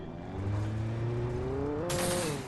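A monster truck engine revs in the Alan Wake video game, a loud rising growl that climbs in pitch and surges near the end, with no talking.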